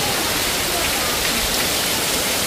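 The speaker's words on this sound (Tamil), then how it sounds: "இது பாருங்க மழையை காற்றுடன் மழை" Heavy wind-driven rain pours down without a break, a loud, dense, even hiss that fills the whole clip.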